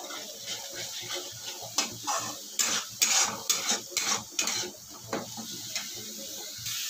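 Masala stirred in a pan for egg curry, a spoon scraping and clinking against metal in uneven bursts, close and moderately loud, with no talking.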